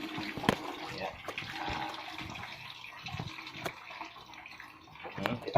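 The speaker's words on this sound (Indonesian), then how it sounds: "kita tuangkan aja ke dalam saringan santan ya" Ground galangal juice pours through a coconut-milk strainer in a home kitchen, a close, uneven trickle and splash of liquid with a few sharp knocks, running continuously for several seconds.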